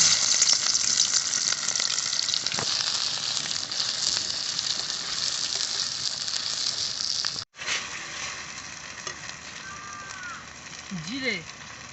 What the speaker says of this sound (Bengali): সরিষার তেল দিয়ে দেবো। পেঁয়াজ কুচি দিয়ে দেবো।